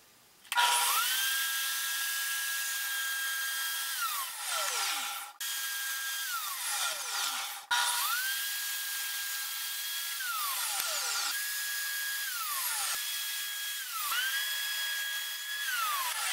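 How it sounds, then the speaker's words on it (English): A power tool cuts stock during a woodworking build, with a high motor whine that spins up, holds and winds down in four repeated passes, loud and close, with no talking. "Now if I cut the material again"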